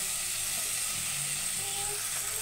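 Cooked Maggi noodles go into a hot pan with coriander powder and chili, giving a steady bright sizzle with faint stirring scrapes, close and continuous, with no talking.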